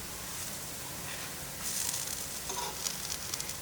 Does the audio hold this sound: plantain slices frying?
yes